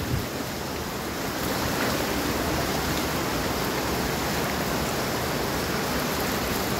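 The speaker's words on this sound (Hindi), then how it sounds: "ये देखें, ऊपर से फिर पानी आ रहा है" Water pours steadily down from above at the Mola Hatachi picnic point in Khuzdar, a loud, continuous broadband rush with no breaks and no talking.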